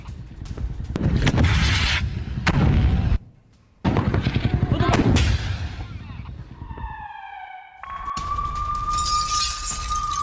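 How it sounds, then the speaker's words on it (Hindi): War footage from the Gaza border carries loud, close bursts of gunfire and explosions during an RPG attack on tanks, with sharp cracks and booms, a brief silent gap, then a rising whistling tone. "गाजा बॉर्डर पर आमने सामने की जंग शुरू हो गई है, आरपीजी के हमले से कई टैंकों को कर दिया गया है तबाह"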